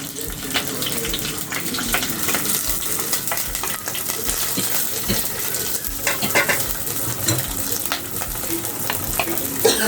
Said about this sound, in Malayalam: നല്ല പോലെ ഒന്ന് ബ്രൗൺ കളർ ആവണം. ഒന്ന് വഴണ്ടി വന്നാൽ മതി.